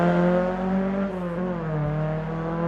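A 1600 Datsun race car working around a hillclimb hairpin, its engine a loud steady harmonic drone that dips and bends in pitch as it takes the corner, close and continuous.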